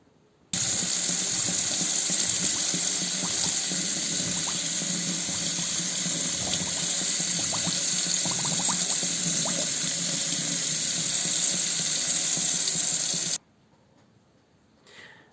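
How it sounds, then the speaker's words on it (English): Cold water runs steadily from a tap over forsythia cuttings being washed in a sink, a loud continuous rush with small splashes that stops abruptly near the end. "You should use cold water, of course, for washing these cuttings."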